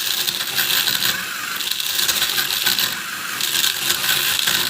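A prototype paper cutting machine runs continuously, giving dense, fast mechanical clicking and rattling with repeated cutting strokes, loud and close, keeping an even, busy rhythm from start to finish.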